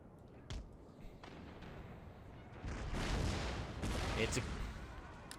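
Cannon artillery fire in an Empire Total War battle, with muffled booms followed by a sustained rumbling barrage that swells in the second half, fairly faint and distant.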